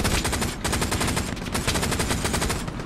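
Sustained machine gun fire in the WWII shooter Hell Let Loose, loud rapid bursts that run nearly unbroken for a few seconds.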